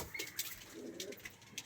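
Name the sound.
pigeons cooing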